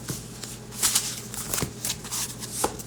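Oracle cards riffled and shuffled by hand in a quiet room, a run of soft, papery flutters and slaps repeating every half second or so, close and fairly quiet.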